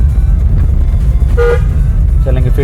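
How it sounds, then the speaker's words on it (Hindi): Car horn honking during a driving lesson on turning, two short toots over steady engine and road rumble inside the car, with an instructor's voice nearby. "हॉर्न बजाएं"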